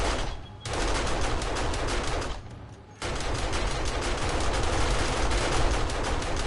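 Automatic guns in a video game fire in long, dense bursts of rapid shots, loud and close, broken by one brief pause before the barrage resumes.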